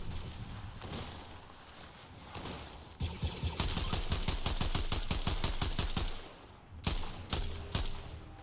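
Rapid bursts of DMR rifle fire in a zombie survival game, loud sharp shots repeating in quick succession, pausing briefly, then resuming in another flurry.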